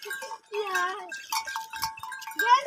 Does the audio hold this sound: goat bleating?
yes